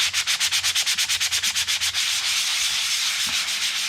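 Flexible sanding sponge rubbed quickly back and forth over plastic on a vintage REO pedestal light, about fifteen rapid rhythmic strokes, then a continuous steady rub, close and clear.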